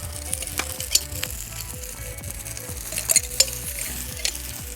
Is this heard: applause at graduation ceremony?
no